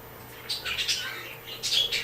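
Birds squawk and chirp, an African grey parrot among a noisy crowd of other birds, in short bright bursts at close to moderate range with a busier flurry near the end.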